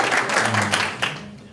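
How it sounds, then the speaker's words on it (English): Audience applause for a panel of school principals at a public education forum, a dense burst of clapping with a voice talking over it, tapering off after about a second. "let's give them a round of applause"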